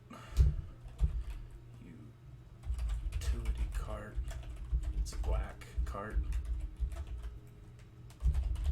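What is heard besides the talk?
typing on a computer keyboard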